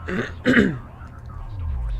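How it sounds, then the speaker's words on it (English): A man clears his throat twice in quick succession, close and fairly loud, followed by a low rumbling background hum. "Just clearing my throat 50 million times, because, you know, that's how I do it."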